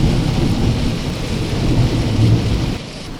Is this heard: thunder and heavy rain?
yes